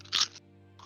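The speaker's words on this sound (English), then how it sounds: "you're crunching so loud" One loud, close crunch of food being bitten and chewed, a brief crackly burst followed by a quieter crunch near the end, during a tabletop role-playing game session.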